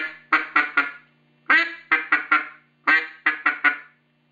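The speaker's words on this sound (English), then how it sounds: "I'm going to put a quack and 3 or 4 short clucks." A duck call gives three quick sequences, each a quack followed by a few short clucks, close, clear and rhythmic with pauses between groups.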